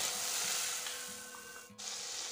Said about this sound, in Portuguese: em uma panela nós vamos adicionar 4 colheres de manteiga